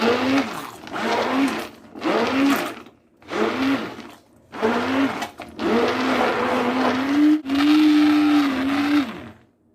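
A blender grinding a yellow melon dessert mixture in a series of short pulses that grow into a longer continuous run, its motor pitch rising and dipping as the load shifts.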